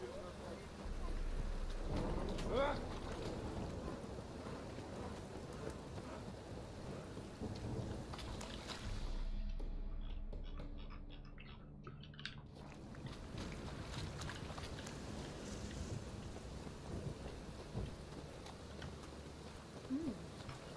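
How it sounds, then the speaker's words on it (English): Steady rain hisses throughout while low thunder rumbles roll in and out in the video game The Witcher 3, one brief lull midway, with faint voices occasionally beneath the storm. "Rain again."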